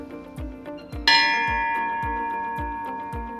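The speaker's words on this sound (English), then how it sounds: "Now check out the ship's bell." A ship's bell aboard a 247-foot Oceanco superyacht gives one sharp, bright strike that rings on and slowly fades. A steady rhythmic low thumping carries on underneath throughout.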